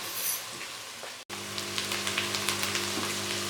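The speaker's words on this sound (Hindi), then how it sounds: "अब हम प्याज को फ्राई कर लेंगे" Finely chopped onions frying in a pan for beef paya, a close, continuous sizzle with scattered crackling pops and a brief break partway through.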